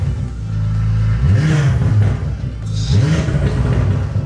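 A car engine revs hard twice, each burst climbing sharply in pitch then dropping back, loud and close, with the warmed-up engine rumbling between the blips.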